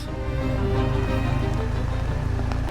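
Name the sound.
hail falling with heavy rain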